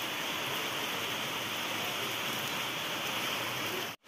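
Steady rain pours down outside a Bengali family home, a dense, even hiss that holds without break for several seconds before cutting off abruptly at the very end.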